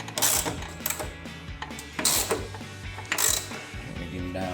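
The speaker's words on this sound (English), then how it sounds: "I'm gonna go through and go ahead and tighten the body bolts." A ratchet clicks in quick bursts while body bolts are tightened on a 2010-2015 Camaro, three distinct rounds of rapid metallic ratcheting close up, separated by brief pauses and small clanks.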